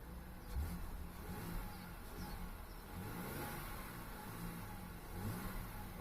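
A 2011 Audi Q5 3.2 Quattro engine runs steadily at a cold idle with a low, even hum and a few mild revs, close by and alone with no talk.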